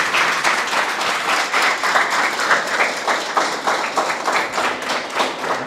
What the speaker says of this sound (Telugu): ఒక్కసారి గట్టి చప్పట్లతో ప్రవీణ్కి మన శుభాకాంక్షలు తెలియజేద్దాం.